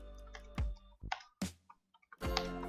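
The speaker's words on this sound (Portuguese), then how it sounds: "eu estou digitando" Someone types on a computer keyboard while working in an online word processor, a handful of soft, irregular clicks and taps, close but quiet, with brief pauses between keystrokes.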